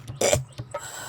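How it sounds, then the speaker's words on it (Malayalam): A single harsh cough bursts out briefly, fairly close and loud, followed by a couple of fainter throat sounds in a quiet room. "നിങ്ങളുടെ ഈ ചുമ പെശ കേട്ടോ."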